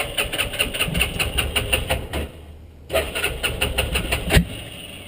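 A Massimo MSU400 4x4 UTV engine cranks and fires, running with a steady rapid mechanical chug, cuts out briefly, then restarts and settles into a close, loud idle.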